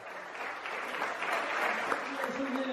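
Crowd applauding at a mountain bike race podium at Isola 2000, steady moderate clapping throughout, with an announcer's voice faintly audible underneath.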